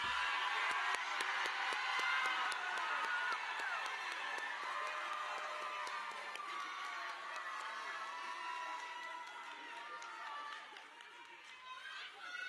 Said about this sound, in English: please stand for one round of applause